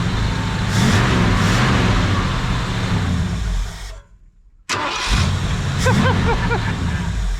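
A long-dormant 1965 Ford Galaxie 500 Hardtop with old spark plugs and wires cranks and runs rough and loud nearby, cutting out briefly to near silence before the noise resumes.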